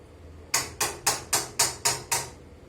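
A spoon mixing masala tea in a cup, clinking against the rim seven times in an even, quick rhythm, each clink bright and short with a brief ring, close and clear over a quiet background.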